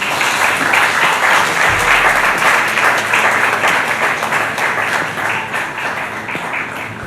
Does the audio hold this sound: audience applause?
yes